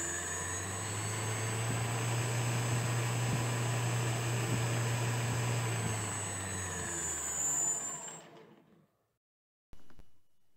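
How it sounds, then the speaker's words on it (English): A low-friction cyclorotor spinning up into a loud, steady whirring drone with a high whine, holding for several seconds before winding down into near silence, followed by a brief burst of noise. "I optimized the cyclorotor to have really low friction, so let's fire it up and see how it does."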